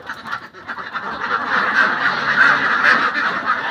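Many farm ducks, some unwell, quack together in a close, busy chorus that swells louder after the first second and stays thick and continuous, with no talking.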